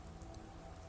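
Steady rain falling in the video game Skyrim, a continuous even patter on surfaces that fills the short moment without any voice over it.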